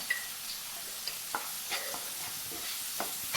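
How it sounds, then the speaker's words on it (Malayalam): Prawn roast masala with turmeric and salt is stirred in a pan, a soft continuous sizzle with occasional light scrapes and taps of the spoon, quiet and close with no voices. "നന്നായി ഇളക്കി കൊടുക്കാം നന്നായി വഴണ്ട് വരണവരെ ഒന്ന് ഇളക്കി കൊടുക്കാം"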